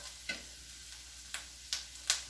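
Carrots cook in butter in a pan with a faint, low sizzle, punctuated by four sharp clicks of stirring spread across the moment, quiet and without voices.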